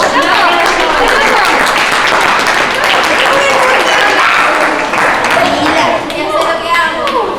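A crowd claps and cheers in continuous applause lasting several seconds at an awards ceremony, with excited voices mixed in.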